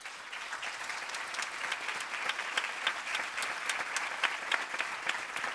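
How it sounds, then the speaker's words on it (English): An audience at a medical lecture on liver cancer gives a warm round of applause: steady, even clapping that stays fairly faint and distant throughout, with no talking. "Please give a warm round of applause to Dr."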